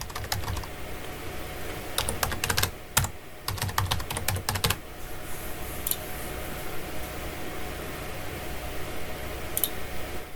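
Keys on a computer keyboard tapped in quick bursts while entering a password during a crypto wallet setup, clustered clicks between about two and five seconds, then mostly quiet room hiss with a faint fan-like hum.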